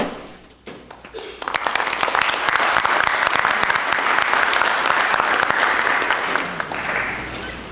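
An audience at a school building committee public forum applauds after a presentation. A few scattered claps start the applause, which quickly swells into full, steady clapping and holds to the end.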